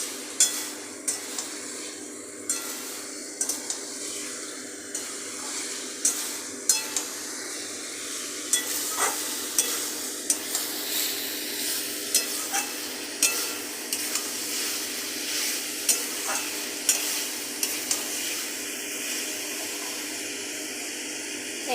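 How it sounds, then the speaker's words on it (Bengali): Pre-fried potatoes are stir-fried into a soybean dhoka dalna masala: a quiet sizzle runs under a steady run of roughly twenty sharp spoon scrapes and taps against the pan, with no talk. "এবার আমরা ভেজে রাখা আলুটা এর মধ্যে দিয়ে দেব, দিয়ে একটু ভালো করে কষিয়ে নেব।"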